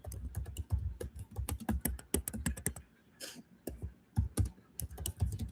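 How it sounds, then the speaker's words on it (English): Fingers type on a computer keyboard in quick, uneven bursts of sharp clicks with brief pauses between them, close and clear with no talking. "why is my typing is so bad?"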